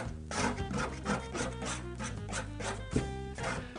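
A paint-covered painting surface is scraped with a tool, giving repeated rasping strokes in a steady rhythm, close and fairly loud, with no talk.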